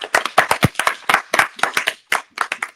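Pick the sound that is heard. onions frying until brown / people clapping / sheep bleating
people clapping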